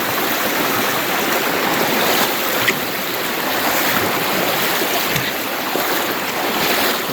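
Swift, clear creek water rushes without a break around a hiker wading across on the Ozark Highlands Trail, a dense close washing roar with no voices.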